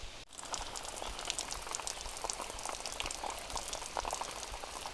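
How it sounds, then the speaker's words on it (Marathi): A garden sprinkler watering plants near Dhamapur Lake sprays water in a soft, continuous crackling hiss, faint and steady with no pauses. "हे फवारा आणि चालू आहे सध्या"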